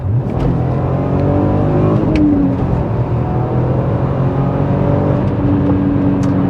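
A VW Golf R32 MK4 engine revving hard, its loud, throaty roar rising and falling through several surges, close by and with no talking over it.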